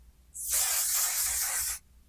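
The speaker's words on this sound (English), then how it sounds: "I'm going to use my little setting spray." A single steady spray hiss from a pump bottle of makeup setting spray, lasting about a second and a half, close and fairly loud, then stopping abruptly.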